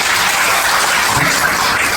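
An audience at a farmer registration launch event claps in a dense, loud, even wash of applause that holds steady across the whole moment.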